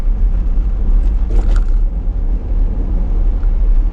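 A car rolls over the Clappity Bridge, giving a steady close road rumble with a brief clatter in the middle of the crossing and no talk.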